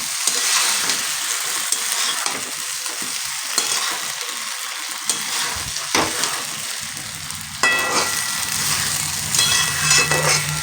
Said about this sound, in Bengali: লো ফ্লেমে এটাকে কিন্তু ধীরে ধীরে ধীরে ধীরে নাড়ে চেড়ে কিন্তু এটাকে কষাতে হবে